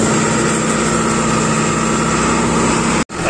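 A tractor engine runs steadily at around 1900 rpm while seeding with a four-row planter, a loud continuous drone with no talking, cutting off abruptly near the end.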